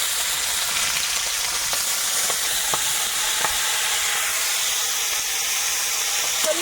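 Onion, garlic, panch phoron five-spice and peas fry in hot oil, a steady close sizzle and hiss running throughout with a few faint ticks and no voices.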